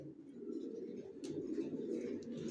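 Original racer pigeons coo in a low, continuous, throaty murmur close by, with a few faint chirps above the steady cooing.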